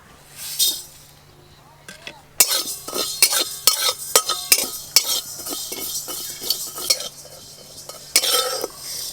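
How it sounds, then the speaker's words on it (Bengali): Whole cumin, mustard seeds and five-spice dry roast in a pan, with repeated close metallic scrapes and clinks of a spatula stirring in quick bursts, a voice talking in the background. "গোটা জিরে, গোটা সর্ষে আর 5 ফোড়ন শুকনো করে একসঙ্গে ভেজে নেব"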